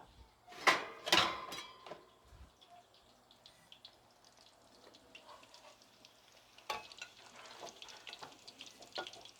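Fried pork ribs scooped from a pan onto a plate: two loud close metallic scrapes at the start, then faint clinks and light rustling over a soft background.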